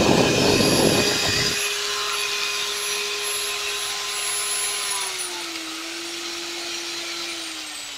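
A digital rotary car polisher runs at high speed and then steps down in speed, producing a steady whining motor hum that drops in pitch partway through, close and alone.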